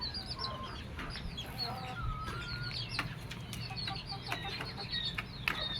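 Chinese silkie rooster among chicks, clucking and chirping in a busy coop, with scattered high peeps and short clucks over a low steady hum, plus a few faint wing flutters.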